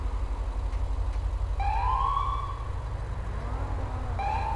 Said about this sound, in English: The siren that I'm currently having at the moment, which is your hearing, is a CHP siren.